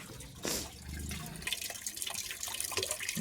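Water splashes and pours onto a flat rooftop terrace nearby, with scattered drips and spatters continuing throughout; no talking.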